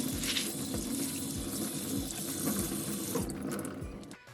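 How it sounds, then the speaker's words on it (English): Water runs steadily from a tap over sprouted mung beans as they are rinsed and drained in a sink, a continuous close splashing flow that eases off near the end. "Then go ahead and drain them. Give it a quick rinse."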